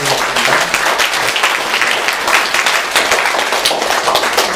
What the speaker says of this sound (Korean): 우리 다 같이 박수로 축하드리겠습니다